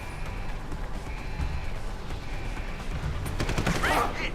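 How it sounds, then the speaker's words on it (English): Blind-fire gunshots in the video game Deus Ex: Human Revolution, a steady run of shots over a continuous loud game background, with sharper, denser bursts near the end. "Just do that blind fire."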